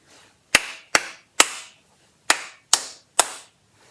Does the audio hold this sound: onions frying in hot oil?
no